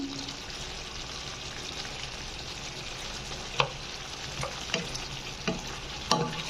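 Igado stirred and sizzling in a pan, a steady frying hiss broken by a few sharp clinks of a utensil against the pan, close up with no talk.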